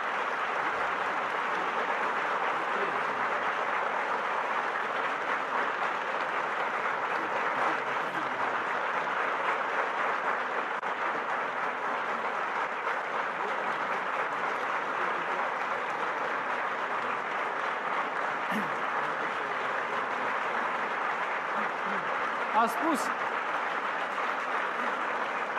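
Sustained audience applause filling a hall, a steady, even wash of many hands clapping that holds at constant loudness for the whole stretch without a break.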